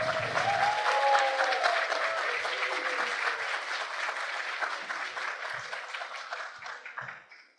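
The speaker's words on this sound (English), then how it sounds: "And that's warm applause, Javier." Warm applause from an audience at a meditation teacher training event, steady dense clapping with a few voices under it, holding strong before tapering off at the end.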